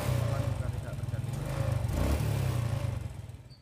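Honda Smash motorcycle engine idling and revved with the throttle, a steady close low rumble that swells slightly mid-way, with a faint voice under it.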